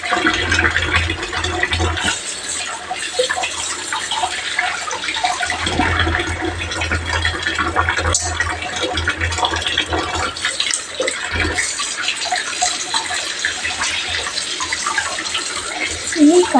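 Tap water runs steadily while fish is rinsed and washed by hand, a continuous broadband splashing with a few louder bursts, close and fairly loud throughout with no talking.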